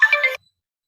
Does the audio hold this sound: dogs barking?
no